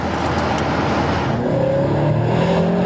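A BMW M5 F10 with its V8 engine accelerating hard up close, a loud sustained roar whose pitch climbs steadily through the gears, with no talking over it.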